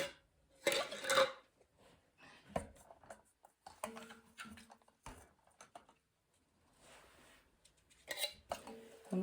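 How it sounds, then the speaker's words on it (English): Metal canning lids clink and clatter as they are set onto jars of mushrooms one by one. The short, close metallic taps come in scattered bursts with quiet gaps between them. "Now I'm going to add my lids"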